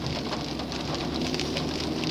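Steady rain pours onto a flooded yard, a dense, even hiss of drops hitting water and muck that holds constant throughout, close and fairly loud, with no voices.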